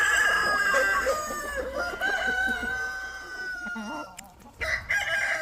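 Free-range chickens cluck close by among grass as a rooster crows loudly, with more clucking and short calls continuing alone to the end.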